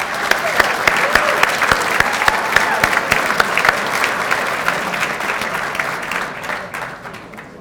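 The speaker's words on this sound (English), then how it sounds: "So I think it deserves a round of applause for that accomplishment." A round of applause at a college athletic hall of fame induction ceremony, dense sustained clapping from an audience with a few sharper individual claps standing out, gradually fading near the end.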